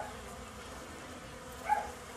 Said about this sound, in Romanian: Albina afară din stup.